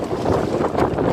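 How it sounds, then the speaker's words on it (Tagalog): Strong wind buffets the microphone at Lakes Entrance, Australia, a steady close rushing roar with no break for the whole short stretch. "Ay, grabe ang hangin."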